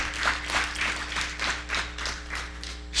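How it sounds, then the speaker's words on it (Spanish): Congregation clapping during a church service after a pastor's call to praise the Lord, a short run of rhythmic, moderately distant claps over a low steady hum. "dale un aplauso al Señor"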